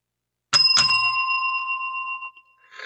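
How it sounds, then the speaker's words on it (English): Double ring of a small bell: two quick metallic strikes close together, followed by a clear ringing tone that decays over about two seconds. No talking. "Well, that was the double bell."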